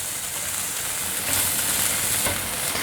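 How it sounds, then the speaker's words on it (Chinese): Preserved radish (chai poh) stir-frying over medium-high heat in a wok, a steady loud sizzle and hiss with continuous stirring scrapes throughout, no voices. "现在放入菜脯，继续翻炒，炒香这些食材"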